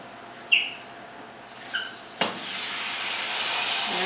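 Pot roast meat laid into hot oil in a pan, a few sharp clinks and a soft thud followed by a sudden, steady loud sizzle that keeps building, with no talking.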